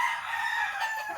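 A Sweater gamefowl rooster gives a single clear crow, bright and sustained from start to finish, close and fairly loud with nothing else over it.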